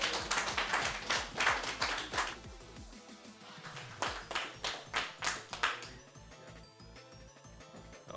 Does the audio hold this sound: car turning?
no